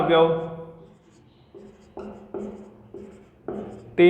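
Marker or chalk writing on a classroom board during a Class 12 matrices lesson, heard as short scratchy strokes in bursts, following a brief stretch of a teacher's speech at the start.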